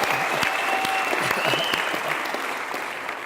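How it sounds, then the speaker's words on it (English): Steady audience applause for a graduating student, a dense wash of clapping that holds throughout and fades slightly toward the end, with no talk over it. "Give him a round of applause"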